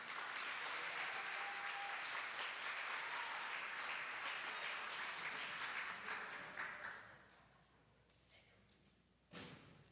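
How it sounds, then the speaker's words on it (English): Audience applause greets a contestant stepping onto the stage at a 2015 talent hunt show, a dense steady clapping from a crowd that fades out after about seven seconds, then one brief loud burst near the end. "Let's give a round of applause for Miss Sierra Moore."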